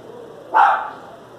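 A neighbor's dog gives a single loud bark, close and sharp, standing out briefly over quiet background hum.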